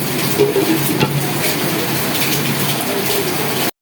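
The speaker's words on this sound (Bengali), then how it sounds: "খিচুড়িটা বলক এসে গেছে" Vegetable khichuri comes to a boil on high heat in a covered pot, giving a steady, loud gushing bubble and hiss that runs continuously, then cuts off abruptly.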